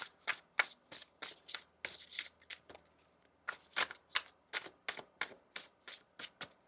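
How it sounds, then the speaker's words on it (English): A deck of tarot cards being shuffled quietly at close range, a rapid run of crisp riffles and taps in an even rhythm, with a short pause midway and no talking. "One more shuffle here."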